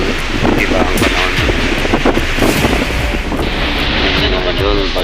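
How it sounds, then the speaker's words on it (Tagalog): Strong gusting wind at a cemetery roars steadily across the microphone, loud and constant, with a voice partly buried beneath it. "Malakas ang hangin dito"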